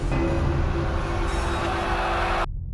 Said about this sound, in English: we blow one last time to get the train to a stop